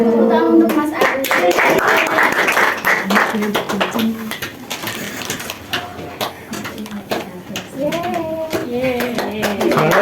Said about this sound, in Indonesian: Tepuk tangan untuk Mas Arif